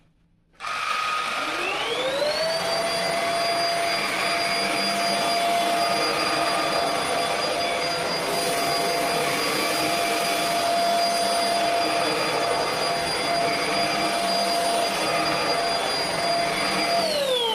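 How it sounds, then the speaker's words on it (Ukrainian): An Einhell TE-SV 18 Li cordless stick vacuum cleaner starts up on carpet and runs steadily with a high whine and whooshing airflow, loud and close, with no talking. "тепер пробуємо пилососити"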